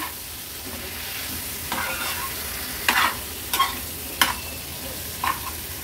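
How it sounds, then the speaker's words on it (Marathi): Squid stirred into a spice paste in a hot pan for an Agri-Koli style seafood dish, a steady low sizzle with several sharp scraping clinks of the spoon against the pan, close and fairly quiet. "आता ह्या माकळ्या ह्या वाटणामध्ये व्यवस्थित मिक्स करून घेते"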